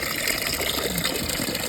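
Water gushes from a hillside waterfall in a steady, dense rushing roar, fairly loud and continuous with no talking.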